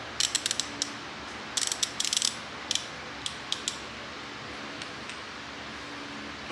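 An ANPUDS 1/2-inch drive torque wrench rated 10-170 ft-lb ratchets and clicks in short clustered bursts, sharp close mechanical clicks with quiet gaps between them and no talking.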